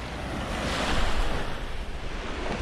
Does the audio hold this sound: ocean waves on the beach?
yes